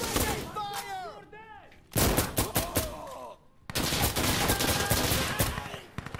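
Gunfire in the video game Insurgency Sandstorm, loud repeated shots and bursts in clusters separated by brief lulls, with sweeping whistling effects early on.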